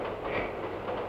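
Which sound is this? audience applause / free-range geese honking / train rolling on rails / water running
train rolling on rails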